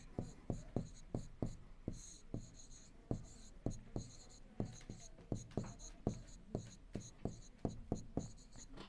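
Chalk or marker writing on a board during a Class 7 maths lesson, a steady run of sharp, rhythmic taps and scrapes close up, continuing alone without talk.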